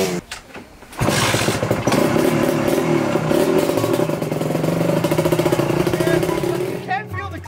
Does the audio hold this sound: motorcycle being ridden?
yes